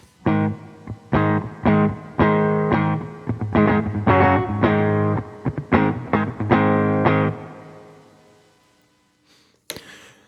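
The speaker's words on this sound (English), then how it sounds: "So as you can hear, there is some reverb going on." Electric guitar played through a Line 6 POD GO with default spring reverb, a run of loud plucked notes and chords with a lingering reverb tail fading out, followed by a short click near the end.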